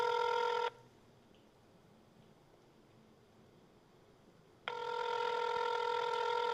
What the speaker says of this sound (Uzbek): Kutamiz azizlar, telefonni olishlarini.